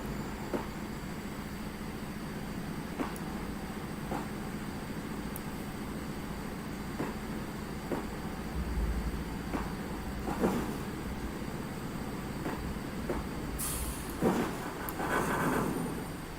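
A train couples to its caboose and rolls on, with a low steady rumble, evenly spaced clanks of rail joints and a few louder metallic bangs.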